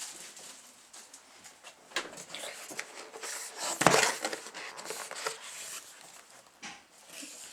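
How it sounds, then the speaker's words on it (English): Crinkly rustling and tearing as plastic wrapping comes off a new Apple keyboard, with scattered crackles and a louder rip in the middle, close and fairly quiet, no talk. "So, get rid of the plastic."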